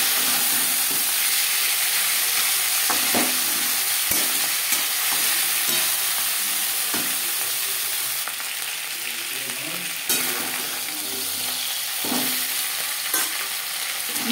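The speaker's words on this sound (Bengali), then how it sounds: "মাছের কাটা একটা সাইড ভাজা হয়ে গেলে" Bhetki fish bones fry in a pan with a loud, steady hiss of sizzling oil, punctuated by sharp crackles and occasional stirring or turning clatter, with no talking.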